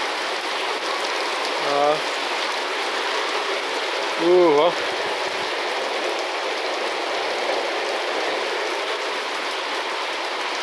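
Steady rain falls on a countryside farm at daybreak, a dense continuous patter throughout, while a voice briefly exclaims a couple of times over it.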